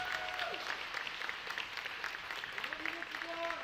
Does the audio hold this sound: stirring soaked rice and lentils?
no